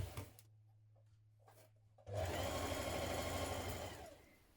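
A sewing machine stitches the shoulder seams of a dress at a 1 cm seam allowance, starting with a few short bursts and handling clicks, then a loud, steady run of rapid stitching that fades out at the end.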